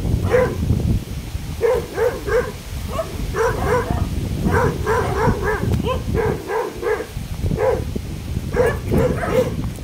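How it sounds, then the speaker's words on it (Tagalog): A pack of six dogs barks repeatedly at a rural outdoor spot in the Philippines, steady overlapping woofs throughout under constant background rumble. "Ayan po yung mga aso"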